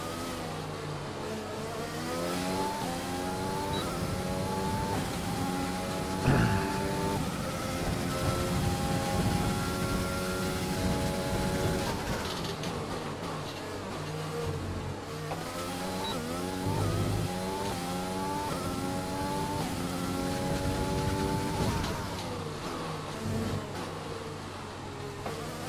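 An F1 car in the F1 2020 racing game, qualifying in Hungary, its high-pitched engine whining and rising through repeated gear upshifts over a long stretch of acceleration, loud and continuous with no talking.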